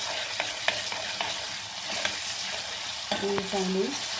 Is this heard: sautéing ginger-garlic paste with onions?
yes